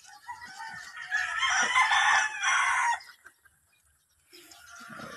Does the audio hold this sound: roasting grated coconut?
no